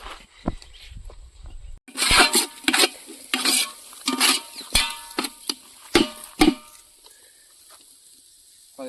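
A spoon stirs and scrapes through rice and eggs in a pan for egg fried rice, producing a steady series of close, rhythmic scraping strokes with faint sizzling underneath.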